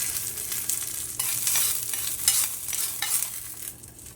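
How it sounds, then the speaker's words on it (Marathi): A hot tempering being poured into ground coconut chutney for mixed-dal idli, giving a steady close sizzle and bubbling with scraping stirs throughout, a little brighter in the middle. "खोबऱ्याचं जे साहित्य चटणीसाठी त्यातली फोडणी घालायची"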